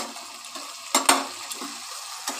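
Kabuli chickpeas frying and stirred in a pan over raised heat for ghugni, a steady low sizzle broken by a couple of sharp scraping stirs near the middle and one more toward the end.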